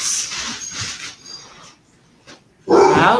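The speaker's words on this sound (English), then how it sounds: "Stop barking." A dog barks indoors, a few scattered yips and barks at moderate distance, then one loud, close bark near the end.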